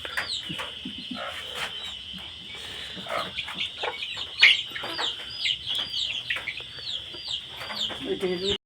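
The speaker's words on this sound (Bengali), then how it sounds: "এখানে একটা মুরগি কুচে বসছে" Native desi hens cluck repeatedly inside a cramped henhouse where one sits brooding, steady close calls with a voice talking intermittently underneath.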